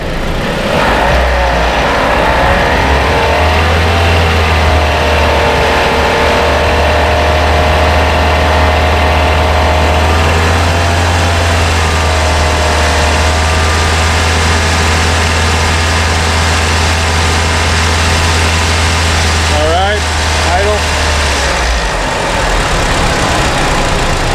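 A 2004 VW Jetta 1.8T engine runs loud and steady throughout, with a low rumble that rises in pitch as the revs climb to 2,500 rpm and then settles.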